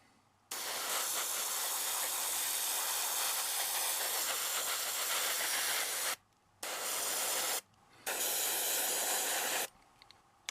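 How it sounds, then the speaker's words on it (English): Loud, steady airbrush hiss spraying gold-gray paint onto a 1/72 HobbyBoss P-40 model kit in long continuous bursts, broken by a few short pauses before it resumes close up. "So I'm gonna spray that on there."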